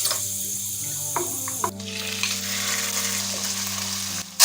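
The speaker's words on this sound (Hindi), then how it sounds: "1 मिनट तक के लिए हम चिकन को फ्राई करेंगे" Chicken pieces dropped into hot oil in a pan over a medium-low flame for Chinese-style biryani fried rice, a sharp burst of sizzling and stirring after a few clinks, then a steady crackle close by.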